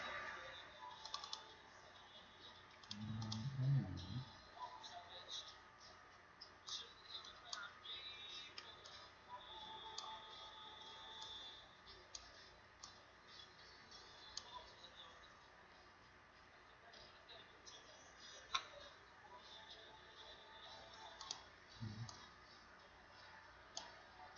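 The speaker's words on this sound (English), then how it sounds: "hear me clicking and mashing keys" Computer keys are clicked and mashed during play of World Basketball Manager 2, a faint scattered run of soft taps and clicks with a few louder thumps, over a low background hiss.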